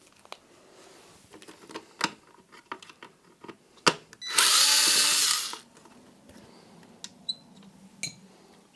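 A power screwdriver runs in one loud burst of about a second while removing screws from an original Xbox console, surrounded by scattered clicks and clatter of handling plastic parts and screws.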